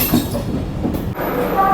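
Janmabhoomi SF Express train pulling into Guntur Junction station, a loud, close rumble of rolling carriages with rhythmic rattling of wheels on track, brief and continuous.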